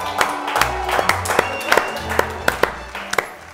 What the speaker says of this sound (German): Klatscht sehr behäbig.